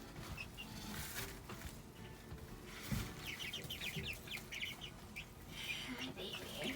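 Six-week-old Sapphire Gem chickens cluck and chirp softly in a noisy coop amid rustling and handling sounds, with faint voices nearby.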